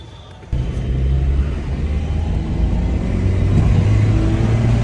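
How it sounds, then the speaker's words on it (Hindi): Original-generation Renault Duster diesel SUV engine starts rumbling abruptly after a brief quiet moment, then holds a steady, loud, low idle drone close by. "ये है डीजल कार है।"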